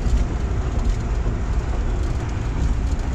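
The Mehr Express passenger train rumbles loudly and continuously near Mianwali railway station, with a heavy, steady low roar and no clear pauses.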